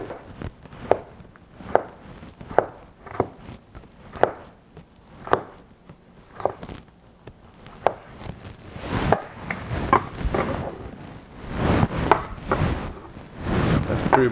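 A knife slices fish into fine strips for ceviche on a board, giving a steady series of sharp chopping taps, then denser, busier cutting and handling noises toward the end.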